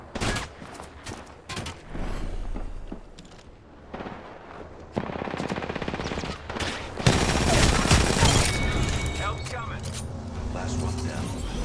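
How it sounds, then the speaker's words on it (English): Rapid bursts of automatic gunfire and scattered shots ring out in an Apex Legends match, loud and near in places, mixed with game effects while players talk over the action. "They're shooting at me."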